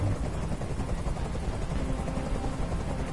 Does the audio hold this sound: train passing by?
no